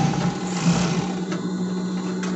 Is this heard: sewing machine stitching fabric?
yes